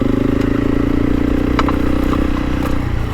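Honda CRF300 Rally motorcycle riding over a log: a loud, close single-cylinder engine drone with a steady throbbing pulse, brief clattering knocks in the middle, and the engine easing off at the end.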